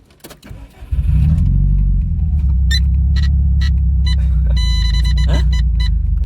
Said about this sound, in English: Now you got to start the car now.